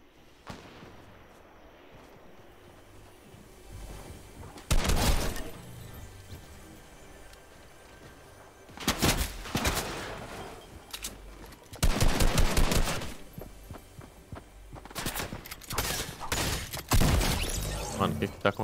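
Rapid bursts of automatic gunfire in the video game Fortnite come in several loud clusters separated by quieter stretches, with crackling shots and shattering impacts.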